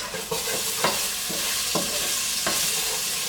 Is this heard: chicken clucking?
no